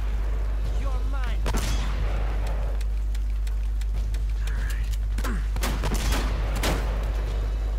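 Enemy gunfire in Uncharted: Drake's Fortune, scattered sharp shots and cracks over a low, constant game rumble, with a few louder bursts spaced through the stretch.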